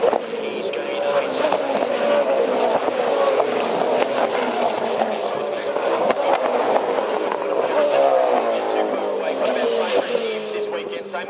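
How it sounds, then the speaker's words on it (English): A race car accelerates away down the long straight at the 2012 Bathurst race, its engine droning steadily and rising in pitch as it pulls away, heard continuously beneath a commentator talking throughout. "As the car scoots away down the straight"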